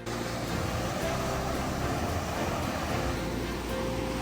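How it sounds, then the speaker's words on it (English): Steady broadband wash of surf rolling onto a Lake Michigan beach, continuous and fairly loud, with a constant rumble and no distinct individual breaks or voices. "these waves aren't huge, but for Michigan, they're pretty big"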